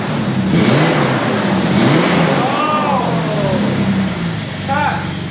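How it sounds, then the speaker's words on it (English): An off-road 6x6 truck engine revs up loudly close by, rising and falling through a couple of throttle blips with a rough exhaust note, while people talk over it. "Give it some gas."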